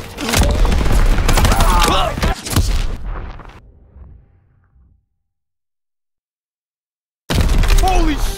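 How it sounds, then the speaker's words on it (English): Gunfire rages in a World War II firefight in Call of Duty WWII, with dense, loud bursts of shots and blasts that fade into a few seconds of silence before the firing abruptly resumes. "He's leaving cover! Open fire!"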